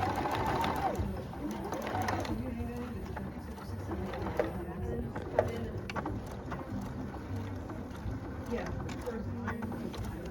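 A sewing machine stitching and back tacking a seam on a reversible bag runs in a steady mechanical whirr with a rhythmic needle chatter, continuing throughout while people talk over it.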